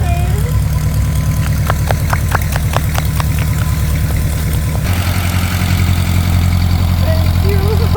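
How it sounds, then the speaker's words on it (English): Engine of a rebuilt 79-year-old airplane runs steadily at idle with a strong pulsing low drone and short rhythmic ticks, dropping to a smoother tone midway, close and loud. "I hear a running engine that sounds very healthy"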